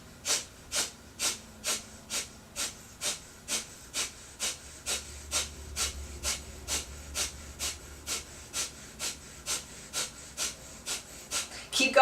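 Rapid, forceful breathing exercise: a steady train of about two dozen sharp, evenly spaced nasal exhales while the belly pulls back, close and clear, with no talking.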